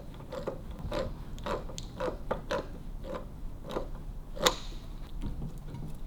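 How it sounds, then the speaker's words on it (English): A nut on 1929 Triumph girder forks is tightened with a spanner, giving a series of quiet, close metallic clicks and ratchet-like ticks at an uneven rhythm, with one sharper clank near the end. "So we've got to do that nut up nice and tight now."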